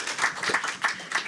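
Scattered hand clapping from an audience at a venture capital panel on AI startups, a brief, moderately quiet burst of several overlapping claps.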